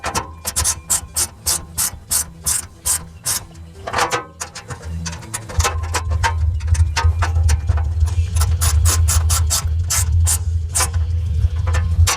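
A ratchet wrench tightens the mounting hardware of a Hooke Road rear cargo rack, with rapid, close, rhythmic clicking bursts that pause briefly, then continue over a steady low mechanical hum.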